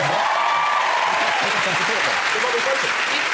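A television panel-show studio audience applauds in a continuous, broad wash of clapping that stays loud and even throughout, with a voice speaking faintly underneath.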